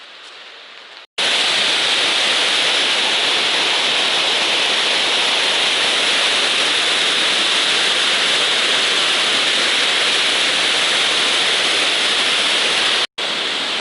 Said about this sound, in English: With a name like Niagara, hopefully they're a good waterfall.